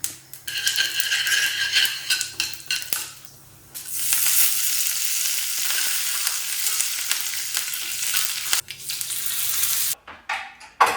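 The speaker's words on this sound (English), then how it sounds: "Now we make a tadka with oil, mustard seeds, urad dal and curry leaves." Mustard seeds, urad dal and curry leaves crackle and sizzle in hot oil for an Indian tadka, a steady loud frying hiss with popping bursts and a brief lull before settling, no talk.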